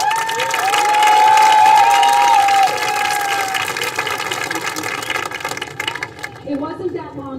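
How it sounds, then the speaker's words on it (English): Graduating class of 2023 at a high school commencement ceremony, the audience clapping and cheering in a sustained loud wash that swells early, then gradually thins and fades out near the end. "Yes, we can clap."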